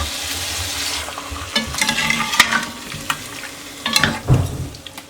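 Fish pieces sautéed in a pan with soaked kokum, a soft background sizzle broken by irregular scraping stirs and clinks of the spatula, close and unaccompanied by speech.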